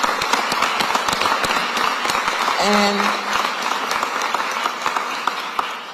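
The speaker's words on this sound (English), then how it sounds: "Give Rob DeBoe a round of applause." An audience at a Philadelphia mayoral budget event gives the finance director a sustained round of applause, with dense clapping throughout and a brief voice rising above it midway.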